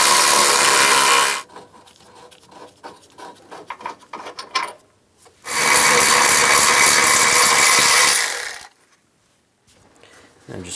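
Radiator bolts on a 2015-2020 GMC Yukon XL being run out with a 13mm socket on a power tool, two long loud whirring bursts with quieter clicking and rattling between them.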